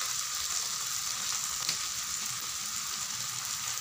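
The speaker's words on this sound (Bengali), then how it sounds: "হলুদ গুঁড়ো আর স্বাদ মতো লবণ দিয়ে এবার মশলাগুলোকে ভালো করে কষাতে হবে।" Ground spices (coriander, cumin, red chili, turmeric) with garlic paste and salt sizzle in hot oil in a pan for egg curry, a constant bright crackling hiss with a brief stirring scrape midway.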